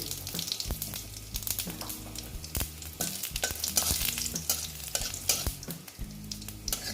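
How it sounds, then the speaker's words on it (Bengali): Dry red chillies and whole cumin seeds fry in hot oil, a steady close crackling sizzle with brief sharp clinks of a spoon stirring against the pan. "দুটো শুকনো লঙ্কা দিয়ে দিলাম তারপরে দিচ্ছি গোটা জিরে"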